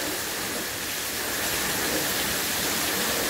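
Heavy rain during a flood watch in South Florida, pouring as a dense, loud, continuous roaring wash with no break.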